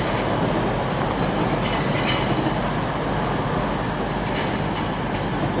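A train passes through Nuneaton station with a steady rumble and rolling wheel noise, plus faint intermittent higher squeals. The sound is continuous throughout, at moderate distance.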